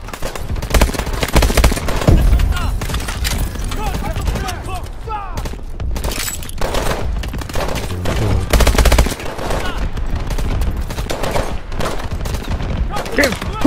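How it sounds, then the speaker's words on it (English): Dense, loud gunfire in Call of Duty Advanced Warfare, rapid automatic bursts and single shots overlapping continuously, with voices talking over the shooting. "Damn, who's shooting at me?"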